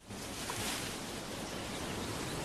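Ocean surf at the beach behind a house, a steady broadband wash of waves, soft and even throughout with no voices.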